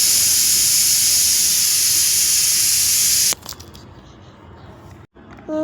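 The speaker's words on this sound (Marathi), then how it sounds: "इथं आपल्या तीन ते चार शिट्ट्या झालेल्या आहेत" A pressure cooker whistle on a stove, cooking masale bhat, lets out a loud, steady hiss of steam for about three seconds, then cuts off abruptly, leaving quieter kitchen noise and a brief faint clink.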